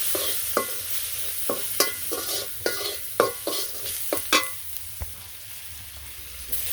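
Onion with salt, chili, mixed spice and turmeric frying in a pan in a village kitchen, under a steady sizzle broken by repeated sharp scrapes and knocks of a stirring spoon, with no talking.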